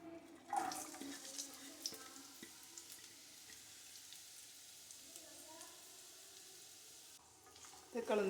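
Chopped onion and slit green chillies sizzle as they drop into hot oil, a steady frying hiss with occasional stirring scrapes, quieter in the middle and flaring again near the end.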